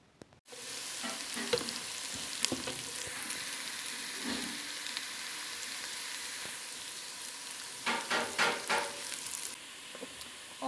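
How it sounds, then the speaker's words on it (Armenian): Butter and oil heat in a pan on a gas stove, giving a steady close sizzle with bursts of crackling and spattering that come and go, and no one speaking. "կարագը և ձեթը, դնում ենք գազօջախի վրա"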